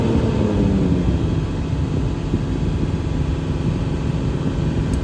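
Diesel engine of a Ram pickup running at wide open throttle, a loud, steady low drone and roar that holds constant throughout with no talk.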